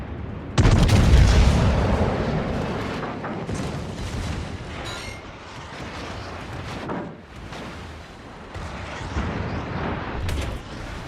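Tirpitz battleship main guns firing in World of Warships, a heavy booming salvo that bursts in loudly and then rolls on as a sustained rumble with further thuds, with no talking.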